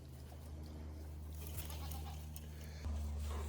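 Goats bleat a few times at a distance over a low steady rumble, with faint outdoor background noise in rural Alaska.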